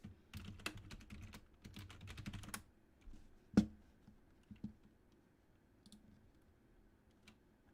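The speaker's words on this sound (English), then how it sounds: "My keyboard is so loud." Rapid clicky keystrokes on a loud computer keyboard come in dense bursts, then thin out to a few isolated sharp taps and quiet pauses, close and alone.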